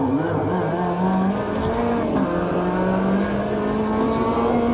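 A car drives at night without its headlights, its engine droning steadily at constant revs throughout, loud and close, with no voices.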